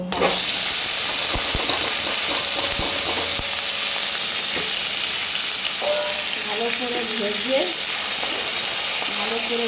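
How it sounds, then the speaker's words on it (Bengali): Raw banana peel and dried red chilies fry in hot oil with a loud, steady sizzle that lasts the whole time, while a voice speaks briefly over it and faint stirring sounds come through. "কাঁচকলার ছাল আর দুটো শুকনো লঙ্কা আছে, এই শুকনো লঙ্কা সব একসাথে ভেজে নেব।"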